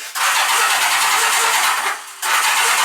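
A motorcycle engine with a new battery is cranked to start in two long, loud bursts of whirring starter noise separated by a short pause, close up and without any talk.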